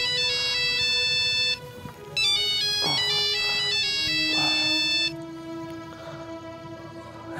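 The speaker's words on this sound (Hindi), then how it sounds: "सरगम का फोन" A phone ringtone plays loud and close as a bright repeating melody, pausing briefly near two seconds before resuming, then shifts to a quieter tone toward the end.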